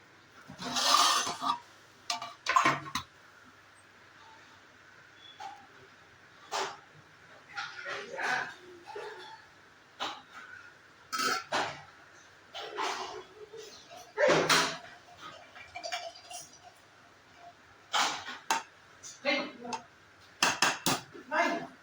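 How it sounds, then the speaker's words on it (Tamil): A pot of kadamba fish biryani is opened and fried fish is added: scattered clanks and knocks of the lid and utensils, fairly close, with a voice talking between them. "ஓப்பன் பண்ணி வறுத்து வச்ச கடமாவை சேர்த்துக்கலாம்"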